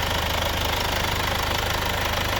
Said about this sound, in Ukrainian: Покажу, як працює двигун.